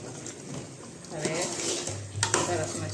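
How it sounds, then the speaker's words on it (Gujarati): A spoon stirs a spice masala mixture in a pan, with clinking and scraping against the metal over a low sizzle, close and moderately loud, no talking heard. "મસાલાનું મિક્સ કરી રહી છું"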